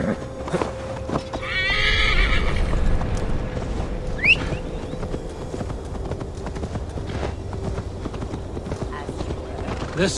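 Horse galloping in Assassin's Creed Valhalla, with rhythmic hoofbeats through a forest, a whinny near the start and a steady low rumble of movement, a voice speaking over it.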